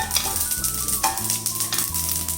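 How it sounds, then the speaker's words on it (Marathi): Sesame seeds dry-roast in a hot kadhai with a close, busy crackle and light scraping of a stirring spoon, over a steady low hum and with no talking. "छान असं मस्त भाजून घ्यायचं आहे."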